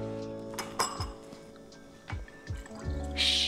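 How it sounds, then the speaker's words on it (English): Lemon rind drops into a glass of cayenne pepper lemon water, making a few close, small drips, splashes and glassy clinks, followed by a brief hiss at the end. "Just throw it in my cayenne pepper lemon water mix already."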